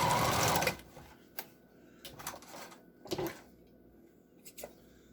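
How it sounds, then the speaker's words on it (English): A sewing machine stitches down the parts of an N95 face mask, starting with a loud continuous run of stitching, then short stops and bursts of the machine with small handling clicks in between. "I'm going to take this, sew this down."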